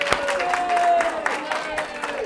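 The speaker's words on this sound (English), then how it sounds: "Clap it up" A keynote audience claps along with the speaker. Brisk, uneven clapping and crowd noise carry on throughout, with a raised voice or whistle-like tone rising above them.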